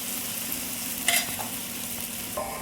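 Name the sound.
rava uttapam batter sizzling on a hot pan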